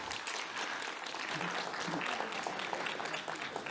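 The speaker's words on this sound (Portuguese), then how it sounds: "todos derem uma grande salva de palmas para Jimmy McManus, o Jimmy Ogro." Sustained applause from a conference audience for a chef, steady and dense from start to finish with no voices breaking through.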